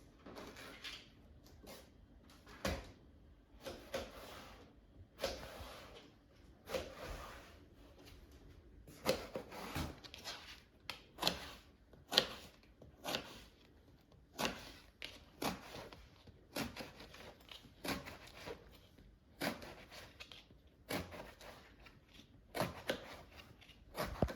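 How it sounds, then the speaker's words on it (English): An eggplant being sliced into pieces with a knife on a cutting board, a series of crisp close chops and taps arriving in irregular bursts over a quiet background, with no talking. "I'm going to slice eggplant into pieces"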